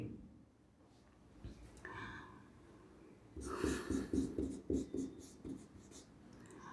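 Pen or chalk scratches out words by hand during an English grammar lecture, a faint early stroke then a run of quick, rhythmic scraping strokes close by, with some soft speech nearby.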